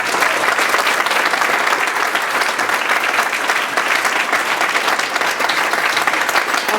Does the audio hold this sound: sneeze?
no